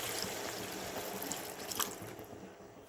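Water pours into a pan of curry with potatoes, pointed gourd and eggs, a soft, close splashing trickle lasting a few seconds.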